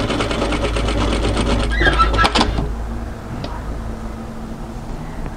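A sewing machine stitches the curved armhole seam of a turtleneck tunic in steady rapid bursts, close and loud for about two and a half seconds before stopping, followed by quiet handling noise.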